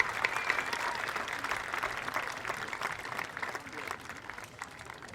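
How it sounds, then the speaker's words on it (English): A crowd at a high school graduation ceremony claps steadily, a full round of applause that holds strong and then gradually thins out toward the end. "please join me in giving a round of applause and thanks to all the people who have supported us"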